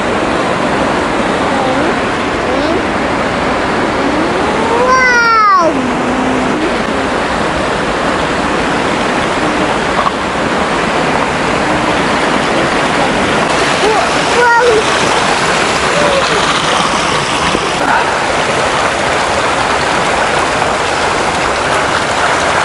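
The Alibek waterfall in Dombay in the mountains, a loud, dense, continuous roar of falling water close by, with occasional voices faintly under it.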